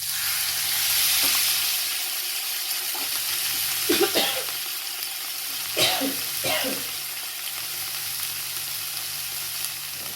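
Chinese kale and canned fish stir-frying in a pan after a splash of water, a steady loud sizzle throughout with a few brief scraping stirs of the spatula.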